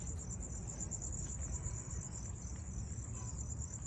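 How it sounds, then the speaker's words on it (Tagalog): Crickets chirp in a cemetery, a dense high-pitched continuous trill steady throughout, with a low rumbling background and no talk over it. "Nandidinig mo talaga yung ano ng insekto ba yan? Yung gangis na yan sa Bisaya"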